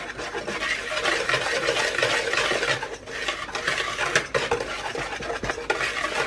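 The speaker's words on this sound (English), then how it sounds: "So now I'm going to mix all of this together, and then I'm going to set it aside." A homemade pumpkin spice blend is stirred in a bowl, giving a steady scraping, clinking swirl of utensil against the bowl that runs continuously at close range with no talking.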